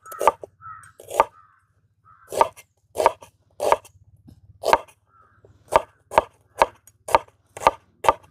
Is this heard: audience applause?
no